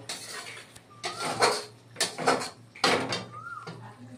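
Cooked vegetarian okra in a pan being lifted off a gas stove, with several metallic clanks and scrapes of cookware spread over a few seconds, close by with a low steady hum beneath.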